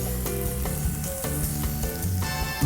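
A pork chop sizzles in a frying pan, steady crackling fry noise with rhythmic handling clatter and utensil taps, and no voices.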